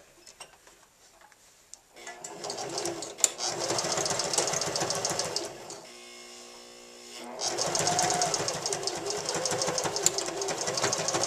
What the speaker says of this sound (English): sew that little flap shut